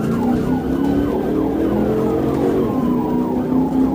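Police car siren wailing loud and close in steady sweeping cycles during a highway pursuit on Okeechobee Boulevard, layered over rushing traffic and engine noise for the whole stretch.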